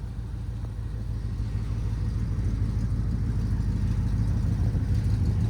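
A restored 1971 Chevrolet C10 long bed 4x4 pickup's engine idles steadily with a low, even rumble, close by and continuous, with no talking over it.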